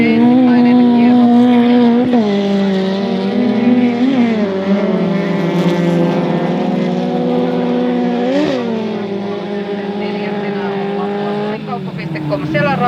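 Folk race cars lap a track in a Finnish JM SM Liiga heat, a loud continuous engine roar that rises and falls with the revs. A commentator talks over it throughout.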